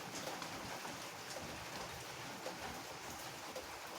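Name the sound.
rain and strong wind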